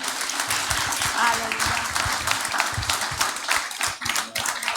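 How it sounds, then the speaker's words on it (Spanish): A church congregation applauding loudly, dense steady clapping from many people filling the space, with voices calling out under it. "Le damos un aplauso fuerte"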